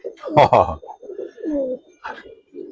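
Large Giribaz pigeons coo in a few loud, throaty bursts close to the mic, with softer rolling coos between them.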